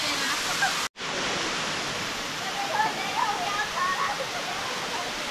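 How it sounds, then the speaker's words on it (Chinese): Houdongkeng waterfall in Yilan roars as a steady, loud wash of falling water, broken by one brief cut near the start, with voices speaking faintly beneath the rush. "这就是那个瀑布，叫什么来的瀑布，头洞坑瀑布吗？"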